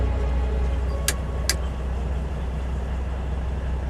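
A timber truck pulls away on a slippery, icy road with a steady low engine rumble throughout, joined briefly by two sharp high clicks or squeaks near the start.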